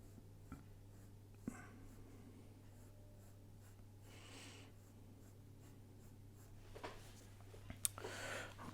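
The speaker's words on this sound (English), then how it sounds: "So we're going to layer our pencil" A pencil scrapes across paper in faint, close strokes, layered shading with soft scratchy bursts and a few sharper taps, over a low steady hum in a quiet room.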